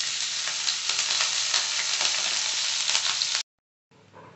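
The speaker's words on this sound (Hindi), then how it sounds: "तो हमारी तेल गर्म हो चुकी है। सबसे पहले हम डाल लेंगे जीरा और मिर्ची।" Cumin seeds and chillies fry in hot oil in a kadhai for a makhana curry, giving a steady, dense, close sizzle that cuts out abruptly for a moment and then returns more quietly.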